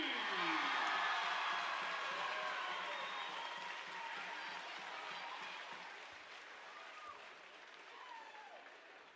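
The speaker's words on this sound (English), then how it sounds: "let's have another round of applause for our Winter Carnival Court." A large crowd applauds steadily for a Winter Carnival court at a Paris Tigers vs. Mt. Carmel Golden Aces game, a dense wash of clapping that starts loud and slowly tapers off over several seconds.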